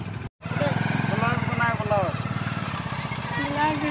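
Motorbike engine ticking over and pulling away at dusk near Topchanchi Lake, a close, regular putter running beneath chatty voices that talk over most of it.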